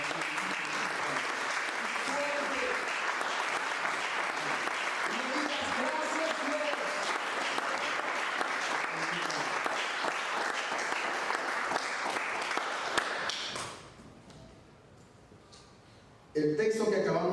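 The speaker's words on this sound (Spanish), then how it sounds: "Así que yo te invito a que le des un aplauso." A church congregation applauds during a sermon, dense, steady clapping filling about thirteen seconds with some voices mixed in, then cutting off abruptly to near quiet before a short burst of sound returns at the end.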